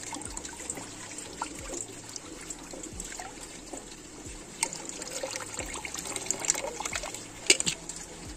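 Liquids for soil culture are poured and mixed into 100 ml bottles, with soft close trickling and dribbling, light clinks and gentle splashes that are fairly quiet and unaccompanied by talk.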